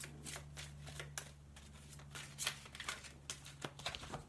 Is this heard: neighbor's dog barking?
no